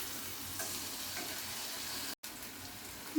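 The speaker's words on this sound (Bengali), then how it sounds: "এখন এটাকে ভালো করে ভাজা ভাজা করে নেব" Spice masala frying and being stirred in a pan for a broiler chicken curry, a steady close sizzle with light scraping, briefly cutting out near the end.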